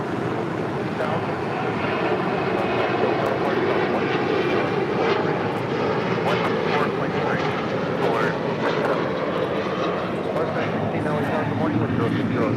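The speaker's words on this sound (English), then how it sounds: "This 777 freighter going around, coming in from Anchorage." Boeing 777 freighter jet going around on arrival from Anchorage, a continuous loud roar of jet engines that stays steady across the whole stretch, with voices talking over it.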